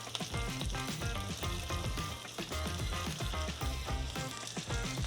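Salmon fillet sizzling herb side down in a pan on medium heat, a dense continuous crackle and spit heard close and steady, with no voices.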